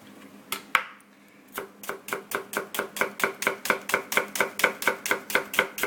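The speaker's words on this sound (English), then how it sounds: "next up we're going to add a little bit of finely chopped red onion" A knife finely chops red onion on a board, starting with a few scattered cuts and settling into a fast, steady run of crisp, evenly spaced chops close to the listener.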